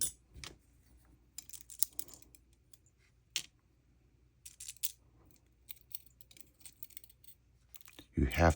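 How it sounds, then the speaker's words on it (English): Small metal springs and pins being pulled from a lock during disassembly, heard as scattered light clicks, taps and jingles spread across the stretch, close by, with a louder handling thump near the end. "You have to pull these springs out to get the top pin out."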